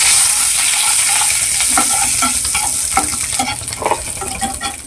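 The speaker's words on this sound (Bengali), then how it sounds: "তেলটা গরম হয়ে গেছে, গোটা জিরে দেবো" Whole cumin seeds and a torn bay leaf sizzle steadily in hot mustard oil in a kadai, a loud bright hiss with scattered crackles and a few soft utensil clicks, no talking.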